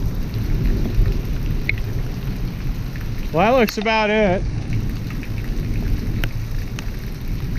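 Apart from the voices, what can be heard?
heavy rain with thunder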